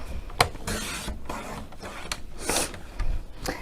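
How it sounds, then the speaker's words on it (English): Paper trimmer slicing down an 8x8 card blank gives soft scraping rasps and sliding strokes, with a few sharper clicks between them, close and fairly quiet. "Open up my trimmer, and I'm going to do it so it's a side fold. So I'm just going to trim this down to 6 inches."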